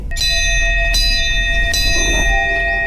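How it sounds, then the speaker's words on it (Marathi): Village temple bells ring in the evening, with several ringing strikes whose bright, sustained tones hang and overlap over a steady low background, loud and fairly close, with no talking. "पाचच्या दरम्यान गावच्या मंदिराचे घंटा वाजाक लागले"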